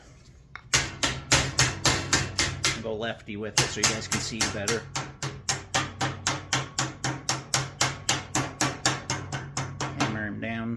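A part being hammered down during HVAC work: a steady run of close, loud, evenly spaced metal blows, about thirty in ten seconds, with someone talking briefly near the start.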